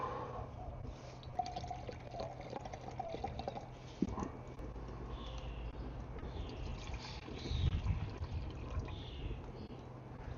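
Water poured outdoors into a cup to measure a single cup beside a small hobo stove, a soft steady pouring and trickling under a constant breeze and faint background rumble.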